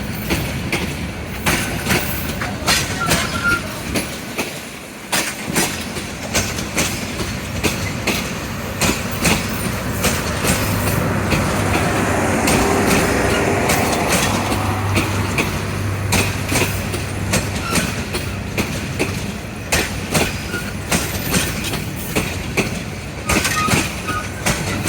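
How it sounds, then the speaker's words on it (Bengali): Burimari Express passenger train from Rangpur and Lalmonirhat arriving at Biman Bandar station, a steady loud rumble with rhythmic clickety-clack of wheels and occasional squeal, continuous throughout from close by. "বুড়িমারি এক্সপ্রেস লালমনিরহাট মানে রংপুর থেকে চলে আসছে"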